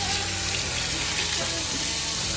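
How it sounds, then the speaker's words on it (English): Water rushes steadily down a bathroom sink drain, a continuous close hiss and gurgle with no pauses. "Okay, so I need to let this drain completely."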